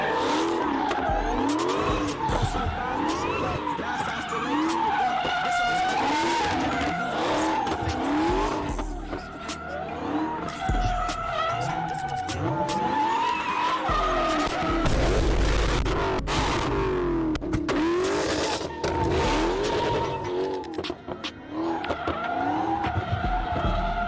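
Car running E85 fuel sliding and skidding, with long, wavering tire squeals over a rumbling engine that swells and fades, loud and continuous throughout.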